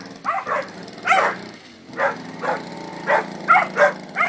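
Several dogs bark in quick, close bursts, about nine yelping barks in uneven rhythm with short gaps between them.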